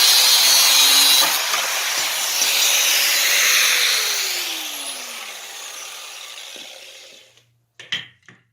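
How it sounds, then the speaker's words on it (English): An old Milwaukee angle grinder cuts through the thick main vertical beam of an armor display stand, a loud, steady, hissing grind lasting about seven seconds as the motor pitch sags under load, then stopping, followed by a few brief knocks and clatters. "we'll cut this off with the old Milwaukee angle grinder"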